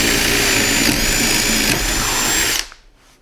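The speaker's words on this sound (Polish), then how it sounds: "Trzynastka wiertło. Trzeba trzymać to naprawdę mocno." A 13 mm ground HSS wood drill bit bores aggressively into wood, a loud, steady whining drill roar held for over two seconds before abruptly cutting off into quieter noise.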